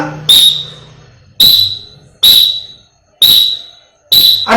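A physical education teacher's whistle sounds five sharp, shrill blasts in a row, each starting abruptly and trailing off, spaced roughly a second apart, loud and close.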